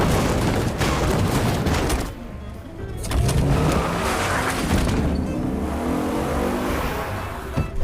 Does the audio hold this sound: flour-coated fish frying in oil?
no